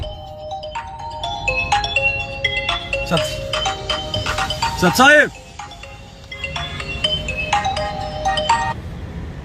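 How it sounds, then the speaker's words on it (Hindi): An incoming-call phone ringtone plays a repeating electronic melody at close range, with a brief rising chirp midway. People speak over it. "फोन आ रहा है, उठाओ।"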